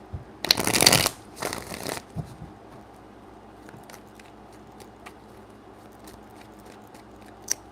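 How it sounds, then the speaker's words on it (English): Two quick riffle shuffles of a deck of playing cards, crisp fluttering bursts up close, followed by quiet light handling sounds. "Three shuffles."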